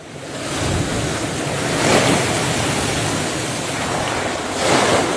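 Large ocean waves driven by Typhoon Uwan batter the coast at Aurora in the Philippines, a loud continuous roar of surf mixed with gusting wind buffeting the microphone, swelling in two heavier surges.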